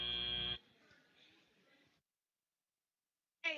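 A loud electronic end-of-match buzzer at a robotics competition blares for about half a second, then gives way to faint arena murmur and silence before another tone begins.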